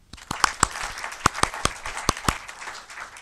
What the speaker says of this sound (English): Please join me in thanking her applause.